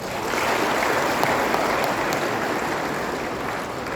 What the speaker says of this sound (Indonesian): tepuk tangan buat UMT.